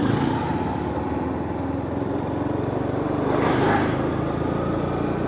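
Motorcycle ridden through Dhaka city streets on a cloudy Friday, with a steady engine drone and wind rush close to the rider and a brief swell of passing traffic midway.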